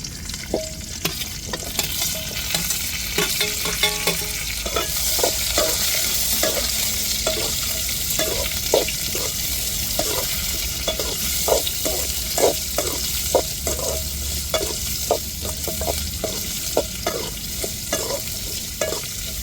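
Onion and chili frying in oil in a pan while a spoon stirs them, a steady sizzle with regular scraping strokes and clinks against the pan, close up, with no one talking.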